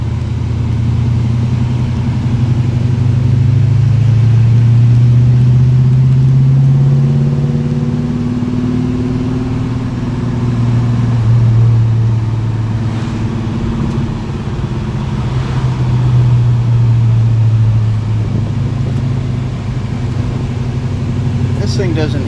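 A 1955 Chevy Bel Air with stock suspension cruising through a pair of roundabouts, its engine a steady low rumble that rises and eases with the throttle, with road and cabin noise around it and no talk.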